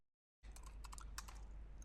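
Keyboard typing while coding a Python tuple example: a quick run of soft, close key clicks begins after a brief silence, riding over a steady low hum, with no voices.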